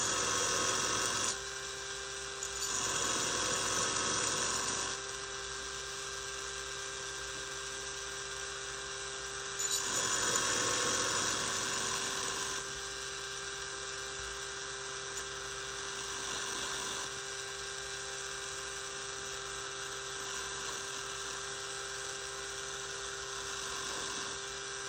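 A tiny porcelain pot is trimmed on a pottery wheel, giving a faint, steady motor whine with a soft scraping hiss that swells and fades in a few passes.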